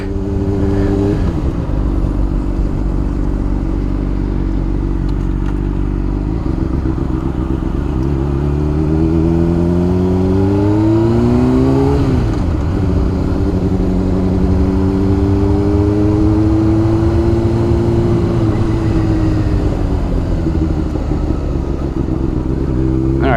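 A 2009 Honda CBR600RR sport bike accelerates hard through the gears, its high-revving inline-four engine climbing in pitch, dropping at shifts and climbing again, loud and close throughout.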